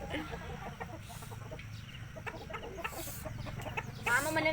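Village hens cluck in short, scattered bursts at moderate distance over a low rural background hum, with a brief louder flurry near the end and no clear speech.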